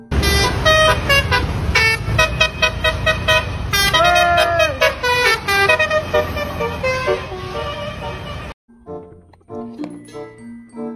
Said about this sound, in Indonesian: Yang ini ada bus Subur Jaya teman-teman